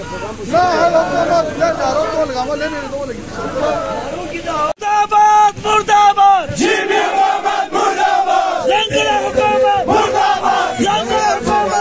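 A protest crowd in Gilgit-Baltistan chants slogans in loud unison against rising wheat prices, voices surging in repeated rhythmic shouts with a brief drop midway, close and dense.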